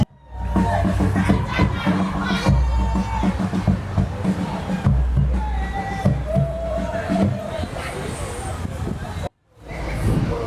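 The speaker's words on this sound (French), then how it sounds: "Est-ce qu'on peut acclamer" Wedding guests at a civil ceremony cheering, clapping and shouting together in a lively, loud crowd with children's voices mixed in, cutting off abruptly near the end before resuming.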